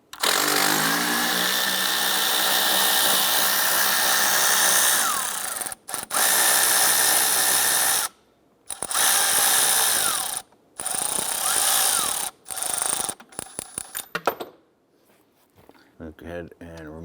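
Power tool loosening a single 13mm bolt on an AC-line bracket of a 2011-2018 Ram 1500, loud close whirring in several bursts with short gaps, ending in rapid stuttering pulses.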